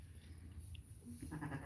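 A lamb bleats in a lambing barn, a short, soft cry heard fairly close, with quiet barn background around it.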